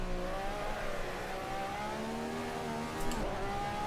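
Mazda MX-5 engine in the Assetto Corsa racing sim, a steady mid-pitched drone holding revs with slight rises and dips, continuous and fairly quiet, with no voices.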